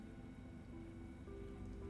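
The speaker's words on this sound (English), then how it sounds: "I'm listening to the rain." Steady rain patters in Star Citizen, a constant, even hiss of drops on surfaces at low level, with a faint tonal hum underneath and no talk.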